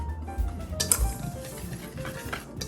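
Dry donut dough of flour, sugar and a pinch of salt is stirred in a bowl, giving soft scraping and light clinks of the utensil against the bowl, close and fairly quiet, with no talking.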